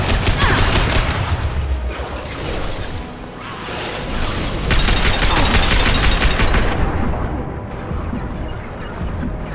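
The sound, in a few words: gunfire in video game Mass Effect 2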